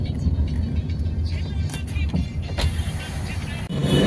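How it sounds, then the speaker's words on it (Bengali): Dense road traffic crawls in a jam on Pandu bridge in Guwahati, with a steady close engine rumble and passing vehicle noise throughout, and faint brief background voices. "ব্রিজে এত জাম ধরছে কম 5000 গাড়ি আছে"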